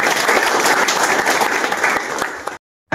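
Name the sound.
applause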